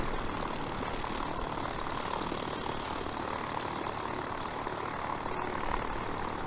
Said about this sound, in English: I'm not very good on the helicopters, but it's just coming across taxiway